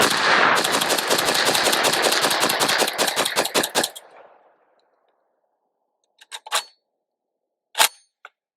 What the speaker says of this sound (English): Let's shoot some more.